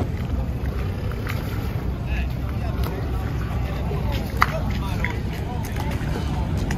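A small private boat's motor drones steadily under rushing wind and sea noise off the coast near Positano, Italy, with faint voices now and then.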